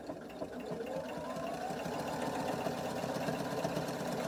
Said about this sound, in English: I'm going to finger press it and sew it in place